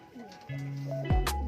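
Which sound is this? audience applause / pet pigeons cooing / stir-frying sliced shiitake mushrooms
pet pigeons cooing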